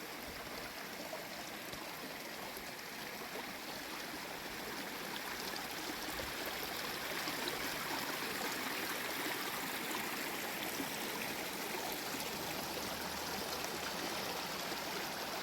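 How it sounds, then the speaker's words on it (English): Creek water flowing steadily along a stream in the Walls of Jericho area of Alabama, a continuous close rushing and gurgling wash with no voices. "Beautiful water source here."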